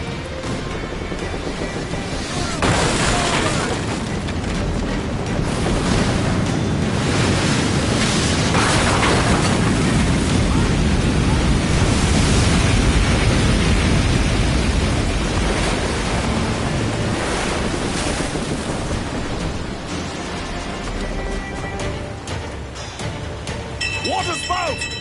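Stormy sea waves and howling wind in an Assassin's Creed game, a loud, continuous roar of crashing water and gusts lasting throughout, with voices shouting over it now and then.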